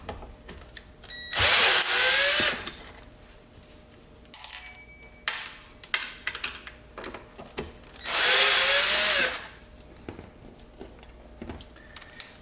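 A power drill backs the truck bolts out of a Summerboard SBX snowboard-skateboard deck: two loud, close whirring bursts of about a second each, separated by clicks, clinks and handling noises of bolts and tools.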